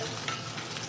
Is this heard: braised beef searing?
yes